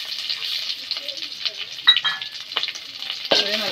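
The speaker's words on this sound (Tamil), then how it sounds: "நல்லா கிண்டிக்கும்" Shallots, curry leaves and urad dal stir-fry in hot oil for okra poriyal, a close crackling sizzle with spatula scrapes through the pan, and a voice briefly speaks near the end.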